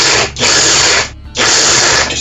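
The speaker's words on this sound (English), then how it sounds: "we put these into a little hand processor here, and we're just going to grate those up here" Small hand-operated food processor grating yellow squash, two loud whirring bursts separated by a short pause, close up with no talk.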